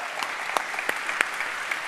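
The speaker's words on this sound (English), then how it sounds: "give him a round of applause right now" A presentation audience gives a thin, scattered round of applause, sparse individual claps standing out over a quiet hiss.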